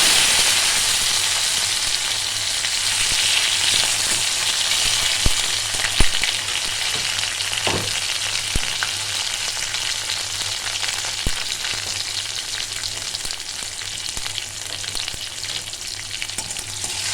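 A tomato frying in hot oil with a bay leaf and two chillies in a home kitchen, giving a steady loud sizzle throughout, with occasional sharp pops and a few soft scrapes of stirring.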